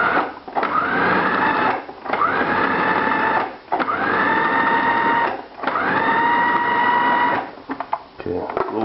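Leftover meat for a meat and potato casserole being ground into small pieces: four loud motor bursts of a couple of seconds each, separated by short pauses, with a voice speaking in between.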